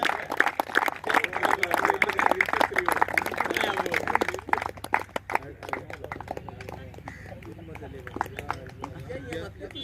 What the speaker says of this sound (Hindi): तालियां बजाएं प्लीज सभी इनके लिए।